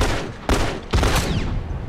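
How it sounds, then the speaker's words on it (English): Gunfire from The Last of Us multiplayer: a loud, dense burst of shots with two sharp onsets in under two seconds, with no talk. "Oh, I was getting shot in the back."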